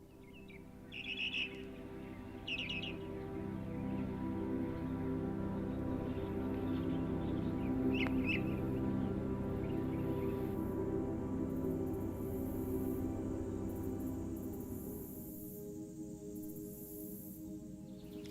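Birds chirp and call in short bursts over a steady, low droning background, faint and somewhat distant.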